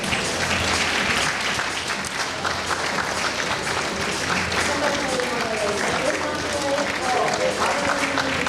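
A crowd claps for the male models at a summer fashion show, with sustained, dense applause throughout and faint voices mixed beneath it.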